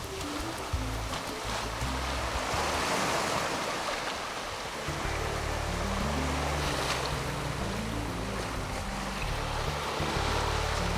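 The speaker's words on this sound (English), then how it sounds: "the waves break a long distance from the shore due to the shallow coral surrounding the island" Ocean surf breaking far offshore on a shallow coral reef around a volcanic island in Vanuatu, a steady loud wash with deep low rumble and hiss, continuous throughout with no voices.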